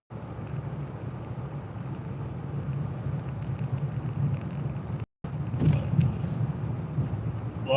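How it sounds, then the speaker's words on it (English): Los Angeles road traffic rolls past as a steady, broad roar of cars and wind from inside a moving vehicle near City Hall, unbroken except for one brief dropout. "Los Angeles traffic can be pretty nasty."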